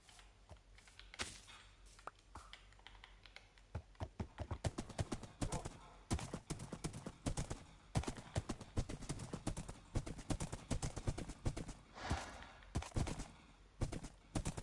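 Horse hooves clip-clop in Minecraft as the animal is ridden, a steady run of quick, close hoof taps with a few louder knocks and faint game noise in the background.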